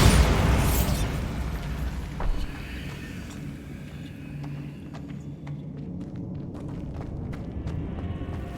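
A Bombarda blast spell in Hogwarts Legacy erupts in a loud booming explosion at the start, then rumbles away into a long low crackling tail with scattered small pops.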